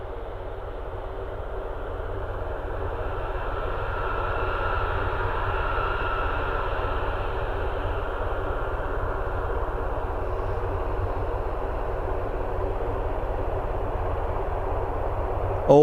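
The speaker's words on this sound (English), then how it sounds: "Always great to see that aircraft." A military aircraft flying over RAF Mildenhall, heard as a loud, sustained jet roar that swells and slowly fades, heard from a distance with no talking.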